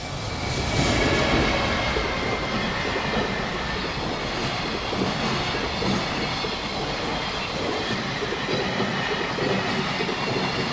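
A freight train rumbles past up close near JR Yamazaki Station, its wheels clattering over the rails in a loud, steady roar that fills the whole stretch without letup.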